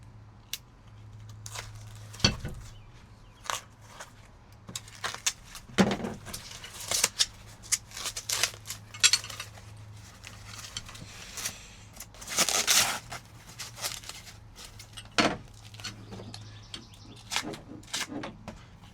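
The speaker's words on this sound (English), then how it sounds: "First, let's open the box." A box holding Tune M1 heavy lift struts is opened and unpacked: scattered cardboard scrapes, plastic crinkles and sharp rustling handling noises, close and irregular, over a low steady hum.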